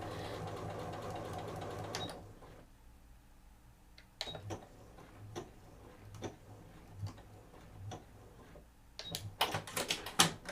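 A sewing machine runs a straight lock stitch in short bursts of quick mechanical ticking, stopping and restarting with quiet gaps between runs, fairly close and moderately loud, with no talk.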